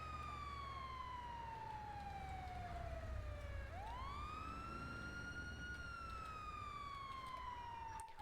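An emergency siren wails, its pitch sliding down, then sweeping back up and gliding down again, fairly loud over low traffic rumble.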